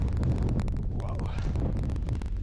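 Strong wind buffeting the microphone on a mountain hike in Norway, a loud continuous roar and rumble throughout with a voice speaking briefly over it.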